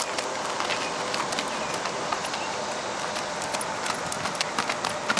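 A western horse cantering, hoofbeats thudding in a steady repeating rhythm over gritty ground, moderately close, with no voices.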